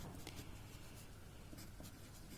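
Pen writing during an English grammar lesson: soft, faint scratching strokes repeating irregularly, with no talking over them.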